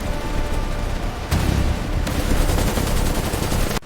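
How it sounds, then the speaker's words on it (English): Dense covering gunfire in a Kargil war battle scene, loud continuous rattling bursts with booming surges, close and filling the whole stretch before cutting off abruptly. "Quick! Give covering fire to Vikram Saab!"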